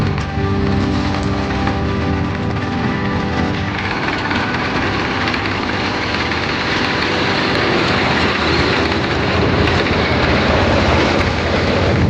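A tractor engine runs in a peanut field in Kathiyawad, a loud, steady mechanical drone with a rough low rumble that holds unbroken throughout, with no voices.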